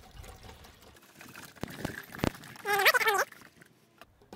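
A litre of water is poured into a tank for testing a 3D-printed water pump. A few knocks and clunks come first, then a brief gurgling pour with a rising pitch as the tank fills, close and clear.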